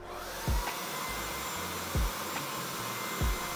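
A Kärcher BVL 5/1 battery-powered backpack vacuum cleaner hums steadily with no one talking, broken by three evenly spaced thumps as the motor briefly shifts.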